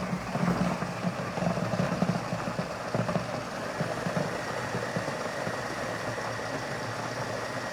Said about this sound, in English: I found the food processor better for this than the blender.